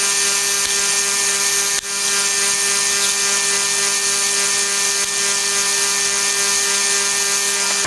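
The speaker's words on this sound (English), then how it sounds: "it's easier just to chain drill it" A drill runs continuously while chain drilling a row of holes through a metal control box lid, a loud, steady whining motor drone with a brief dip as one hole finishes.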